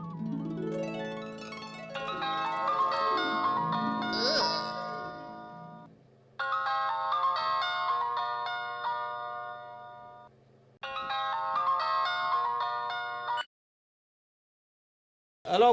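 Phone ringtone sounding while a call connects, a bright repeating melodic chime playing in three separate bursts with short gaps between them, then cutting off into silence.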